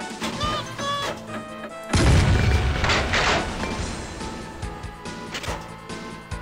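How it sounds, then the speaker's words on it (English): A bomb explodes in a platform video game as a sudden heavy boom and crash, following a bright melodic jingle and fading into rumbling game effects. "Yeah, another bomb."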